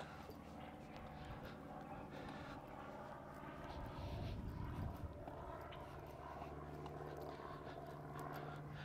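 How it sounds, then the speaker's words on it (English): Light aircraft pass over a suburban lakeside area near Jandakot airport, a low, distant propeller drone that swells slightly midway under steady outdoor ambience. "Notice a few light aircraft going over."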